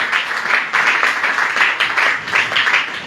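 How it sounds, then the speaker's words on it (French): A church congregation claps loudly and close by in a steady rhythmic pattern of repeated bursts, sounding like worshippers keeping time together. "Acclame plus fort pour la gloire du Seigneur Jésus."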